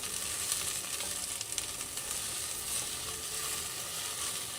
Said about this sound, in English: Okay, a little bit of just a light saute.